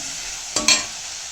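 Sliced bitter gourd sautés in hot oil with turmeric, giving a steady close sizzle and two quick stirring scrapes midway, with no talk.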